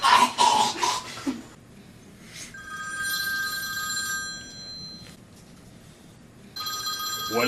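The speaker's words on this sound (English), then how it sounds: "What is it gonna take to shut up that stupid phone?" A telephone rings in bursts of a bright electronic trill separated by quiet gaps, heard in a room after a loud cough or throat-clearing at the start.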